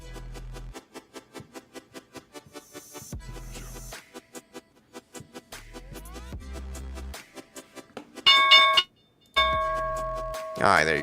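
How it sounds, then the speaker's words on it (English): The stock market opening bell rings in a rapid repeated series of metallic strikes, fairly loud and rhythmic, with brief gaps and a denser ringing burst near the end. "I'm gonna let the opening bell play out first."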